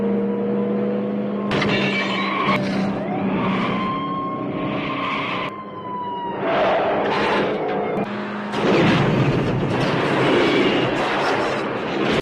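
A police car chase from a Rambo film, with screeching tire squeals, revving engines and crashing impacts layered with cinematic sound effects, loud and dense throughout.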